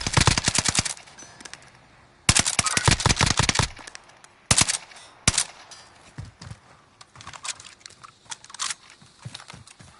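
Video game gunshots crack out in clustered bursts, a loud volley at the start and again around two seconds in, then scattered single shots and short rattles that trail off quieter toward the end.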